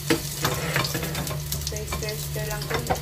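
Garlic and ginger frying in a pan for a pork belly dish, a steady close sizzle with faint stirring clicks and a low hum underneath.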